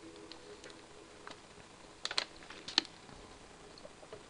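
Quiet, sparse keystrokes on a computer keyboard, a few soft clicks with a couple of sharper taps, close by against a low background hiss.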